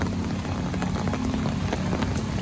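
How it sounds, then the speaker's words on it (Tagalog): Steady typhoon rain pours down without pause in flooded Binondo, Manila, a dense hiss of drops pattering on surfaces, loud and close. "Tuloy-tuloy pa yung ulan."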